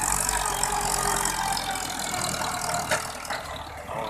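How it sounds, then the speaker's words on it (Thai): A ten-wheel dump truck idles steadily in a dirt pit, with a continuous broadband engine rumble and hiss that stays fairly loud throughout, plus a few faint knocks, and no voices. "อันนี้คือรถไถนะครับตัวบรรทุกครับ"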